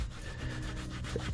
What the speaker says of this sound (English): Just one last wipe up on the seat.